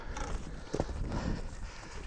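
Stud horses walk along following a truck, their hooves clip-clopping in a few soft, uneven steps over a steady outdoor background, with no talking.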